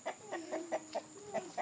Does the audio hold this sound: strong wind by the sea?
no